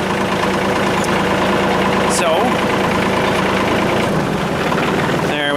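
A John Deere 2032R tractor engine idles with a steady, close mechanical rumble while the tractor creeps forward slowly. Someone speaks briefly over the engine, and a few metallic clanks sound.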